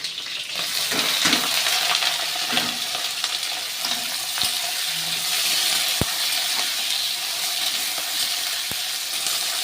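Chopped onions hit a hot kadai with chillies, setting off a loud, steady broadband sizzle of frying oil, with a few sharp utensil clicks scattered through and no talking.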